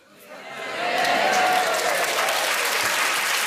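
Applause from an audience swells up within the first second and holds steady, a dense, loud patter of many hands clapping.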